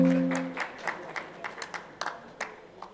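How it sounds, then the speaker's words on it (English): At a steel industry conference, a brief voice gives way to scattered, sparse clapping from a small audience, about a dozen distinct claps at uneven intervals, moderately close. "A huge round of applause, please"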